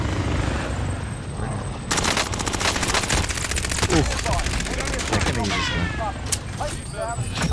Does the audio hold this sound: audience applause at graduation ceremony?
no